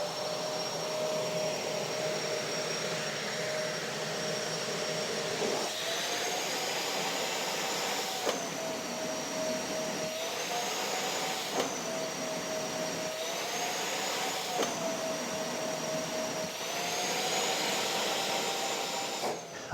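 An Oneida SuperCell dust collector in a woodshop runs with a loud, steady roaring whine. Its pitch dips and rises at regular intervals as the filter-cleaning reverse cycle kicks in repeatedly. No one speaks.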